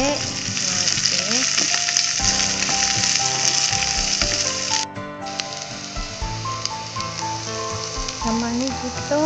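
Garlic and onion fry in a pan for pork binagoongan, making a dense, continuous sizzle heard up close. Stirring scrapes and shifting tones run through it, with a brief dip midway and no speech.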